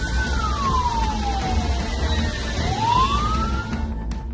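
An ambulance siren stuck in a traffic jam wails in slow rising and falling sweeps over a loud, steady rumble of surrounding traffic.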